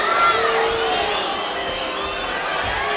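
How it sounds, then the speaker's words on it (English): A boxing arena crowd of Mexican fans roars and cheers in a dense wash of noise, with shrill whistles cutting through at moments. "You hear the crowds, when you hear the Mexican fans, and he's that torching the bullies, that whistling."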